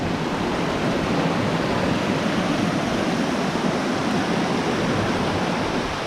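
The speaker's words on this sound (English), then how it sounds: "here we have a little rolling brook with a tiny little waterfall" Small rolling brook with a tiny waterfall in Wicklow, Ireland, giving a steady, dense rush of water that stays even and close throughout, with no talking.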